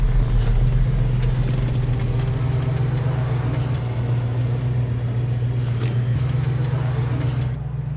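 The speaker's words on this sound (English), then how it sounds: "me and Royal are about to race this wonderful Coronet" A Dodge Coronet's engine runs with a loud, close, steady low rumble that holds even and unbroken for the whole stretch before easing slightly at the end.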